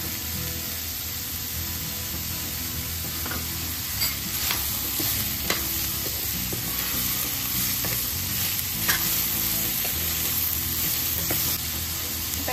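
Ridge gourd sabzi being mixed with salt and homemade black masala in a pan: a steady, close sizzle runs throughout, with scattered spatula scrapes and taps against the pan, and no one speaking.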